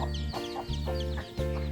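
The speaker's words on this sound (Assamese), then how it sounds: "এইকেইটা মুৰ্গী পোৱালি কেইটা ভিডিঅ' কৰি লৈছো" Chickens and chicks at a village home, steady close clucking with repeated bursts of higher peeping calls over a continuous hum.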